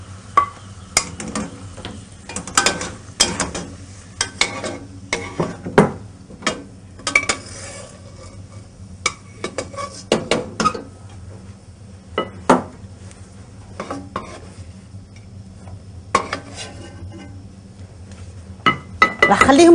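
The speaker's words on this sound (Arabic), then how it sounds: "وانا راني نقلب فيها لكلي، راني نقلب فيه مش راح اخليه ينحرق" Pine nuts frying in oil are stirred in a pan, giving repeated scraping clinks of a utensil against metal under a faint sizzle.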